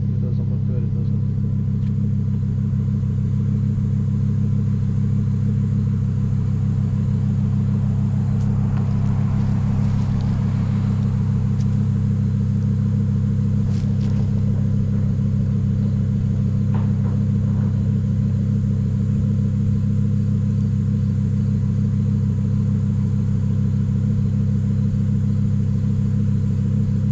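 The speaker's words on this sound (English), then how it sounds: "I'm going to back up into that little pull-off that's right there" A car slowly backs up into a small roadside pull-off, its engine giving a steady low rumble throughout with faint mechanical noises on top, close and continuous.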